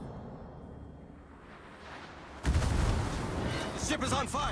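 In the World of Warships game, battleship main guns fire a salvo, a sudden loud booming blast about halfway through followed by a rumbling roar, over earlier low background noise.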